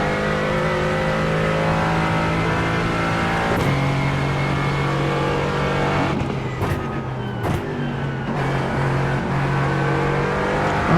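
GT4 race car at Bathurst in the iRacing sim, its engine droning loud and close as it accelerates hard, pitch rising steadily with brief drops at gear changes.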